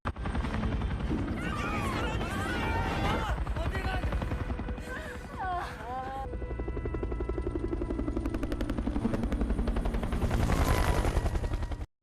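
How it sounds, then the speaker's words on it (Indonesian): A helicopter flies away over a rooftop in a Korean school zombie film. Its rotor drones steadily throughout, mixed with dense film sound effects and voices. "helikopter sudah terbang menjauh dan tak menyadari kehadiran mereka"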